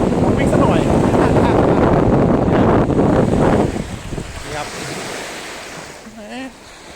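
Sea waves wash over a rocky Thai shoreline as a broad, loud roar of surf mixed with wind noise. The roar eases after a few seconds and a voice is then heard faintly.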